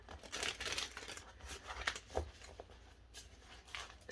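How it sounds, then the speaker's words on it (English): Tarot cards being shuffled, a quiet, irregular run of soft crinkling riffles and papery taps close by, with no voices. "Let's make sure we get those cards really shuffled."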